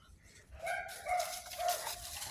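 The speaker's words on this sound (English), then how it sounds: "My neighbor's dog." A neighbour's dog barks and yips outdoors in a backyard on a spring morning, several high, somewhat distant barks in an uneven series over a low background hum.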